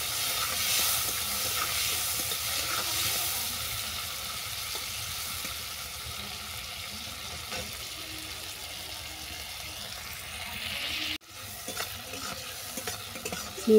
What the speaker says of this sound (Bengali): চিংড়ি মাছটাকে ভালো করে ভেজে নেব।